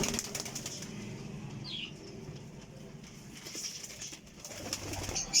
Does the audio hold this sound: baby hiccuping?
no